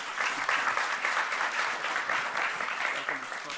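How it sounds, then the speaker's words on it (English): Audience applause at a tech talk on web components, a steady dense clapping from a crowd that holds at an even level throughout without voices on top. "let's give a warm applause for these two guys."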